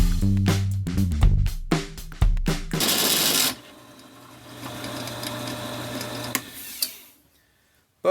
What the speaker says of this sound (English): I'll put a little more Tapmatic on, and we'll see if we can't countersink our hole a little bit. Probably going to chatter a lot.